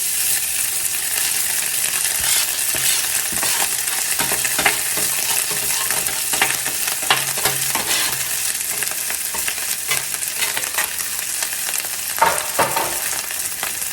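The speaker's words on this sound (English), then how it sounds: "So now we're going to put our rice in." Rice hitting hot oil in a skillet, a loud steady sizzle and crackle with scattered pops and scraping spikes, continuous and close.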